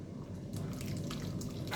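Liquid squeezed from grated potato being poured into a dish while cooking: a soft, continuous trickling splash, close but quiet, slightly louder toward the end.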